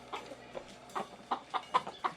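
Hens cluck in a series of short, close bursts, about six or seven irregular clucks against a low farmyard hum.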